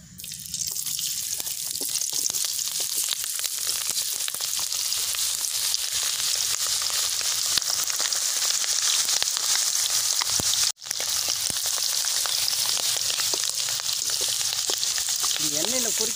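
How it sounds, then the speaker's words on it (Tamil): Caper berries (athandangai) deep-frying in hot oil for chips give a steady, loud bubbling sizzle that runs on without a break, with only a brief dip near the end. "இந்த ஆதண்டங்காயை பொறிச்சு எடுத்துக்கிறோம்."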